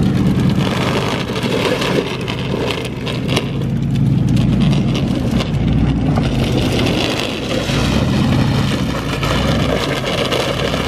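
A car running on bare wheels with the rubber stripped off its tires drives and drifts, giving a loud, steady engine roar with grinding road noise that swells and eases throughout, with no talking.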